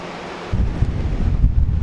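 Strong coastal wind buffets the microphone on a lookout above a beach at Hunting Island, South Carolina, a steady roar that grows louder and gustier after a calmer start, with no talk.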